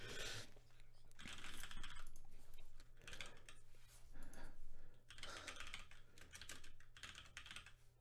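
Rapid typing on a computer keyboard as a message is written, with close, quiet clicking in bursts separated by short pauses, fairly steady throughout.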